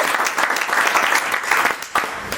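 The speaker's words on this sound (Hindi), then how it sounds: "चलिए जोरदार ताली दोहरा आपके लिए।" Loud, dense applause from a seminar audience fills the whole stretch, a steady wash of many hands with a brief dip near the end before it swells again.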